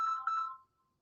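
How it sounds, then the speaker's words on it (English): Mobile phone ringtone, a short electronic chime that sounds once clearly and quickly fades out, leaving near silence. "My phone's ringing"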